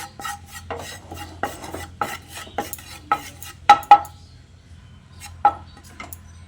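A spoon scrapes and clinks against a pan while gram flour dry-roasts, repeated stirring strokes with a few sharper knocks, close and fairly quiet.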